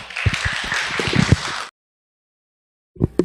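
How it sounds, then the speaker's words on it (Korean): A church congregation bursts into applause at a seminar for caregivers, dense clapping running loud for over a second and a half before cutting to silence, then a brief burst of clapping or movement near the end. "이 시간 하나님께 영광 돌리는 박수 보내드리고 시작하겠습니다"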